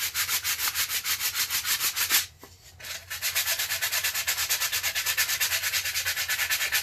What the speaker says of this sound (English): Yeah, the 100 grit's working out pretty well.